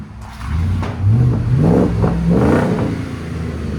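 A Ford F-250 pickup with the 7.3L Godzilla V8 and a Borla exhaust revs up close, climbing and falling in pitch with a throaty, fairly restrained tone.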